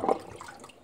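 Water gurgles and drains briefly down a private house's sewer pipe just cleared of a clog with a cable, a short watery rush fading within a second.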